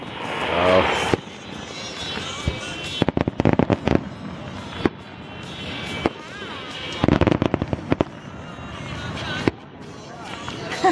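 A Quality Foods fireworks display in Campbell River, celebrating a graduating class, goes off in loud, sharp bursts and crackling clusters, spaced unevenly through the stretch, with steady crowd noise and some talk beneath.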